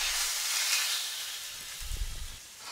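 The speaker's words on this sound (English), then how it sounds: "Then I'll take my steak and it goes in the pan." Steak sears in a hot pan with a steady broad sizzle and hiss, fairly close. A brief low thump and burst of crackling follows near the end.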